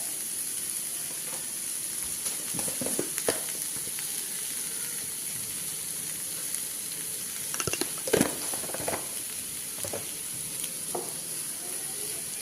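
Three large chopped onions salted and frying in a pan; a steady close sizzle and hiss runs throughout, with occasional scraping and knocking stirring sounds, especially around the middle.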